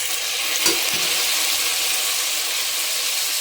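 Marinated chicken for adobo fries in a pan, a bright, steady close sizzle with a brief clatter near the start, with no talking.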